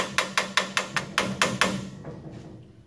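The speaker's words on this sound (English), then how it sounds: "Need a better hammer." Hammer striking a keyway while fixing car drum brakes: seven or eight sharp metallic blows in a steady, quick rhythm, close and loud, then fading into quiet.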